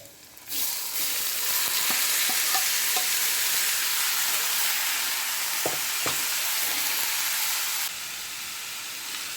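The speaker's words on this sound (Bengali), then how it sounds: "কাটা পেঁয়াজ কাঁচা মরিচগুলো দিয়ে দেবো লাউ কুটাগুলো এখন দিয়ে ভেজে নেবো" Onions, green chilies and bottle gourd sizzle loudly and steadily in a hot pan, a dense frying hiss that holds for several seconds with a few stirring clicks, then softens slightly near the end.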